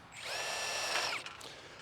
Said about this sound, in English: we want to pre-drill this aluminum base